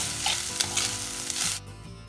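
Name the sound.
sautéing chopped onion, carrot and cabbage in pan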